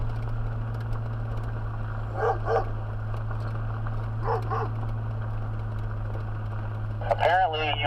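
Several short bursts of dog barking ring out outdoors on a sheep-watching trip, spaced a couple of seconds apart over a constant low engine-like hum, with people speaking nearby.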